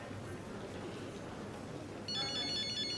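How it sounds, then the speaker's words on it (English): A telephone ringtone starts partway through, a bright repeating electronic ring that comes in suddenly over quiet room tone and carries on to the end. "That's my phone."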